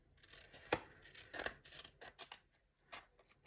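Scissors snip and trim paper for a birthday banner card: a few sharp, close cuts with short rustling slides between them, quiet and isolated with no talking.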